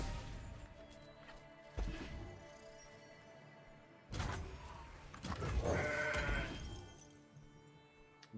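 Several goat bleats from Legends of Runeterra ring out between bursts of crashing effects, with a quieter stretch early and a denser cluster of bleats toward the end.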